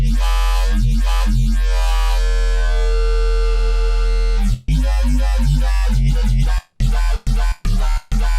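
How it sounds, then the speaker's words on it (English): A bright, buzzy Serum wavetable synthesizer tone with a hollow metallic, square-wave edge plays sustained notes, then choppy stabs cut off by abrupt silences. "you're going to get a much more metallic, squarier sound like this."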